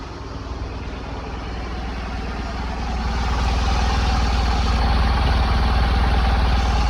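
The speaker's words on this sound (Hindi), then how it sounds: "और अब ना आपको इसका एग्जॉस्ट साउंड बाहर से सुनाता हूँ, बाहर से कैसा लगता है सुनने में" Tata Nano small car exhaust heard from outside, a steady low idle drone with faint clatter that grows slightly louder midway and holds constant with no talk over it.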